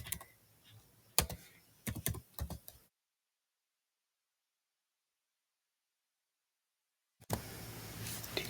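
Close clicks of typing on a computer keyboard, irregular keystrokes for a few seconds, then a gap of silence before more faint activity resumes.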